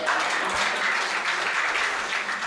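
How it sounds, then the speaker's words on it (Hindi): Audience at a Hindi comic poetry gathering applauds loudly, a dense, continuous wash of many hands clapping with no pauses. "मैं चाहता हूँ एक बार आप अपने सम्मान में जोरदार तालियां बजाइए भाई"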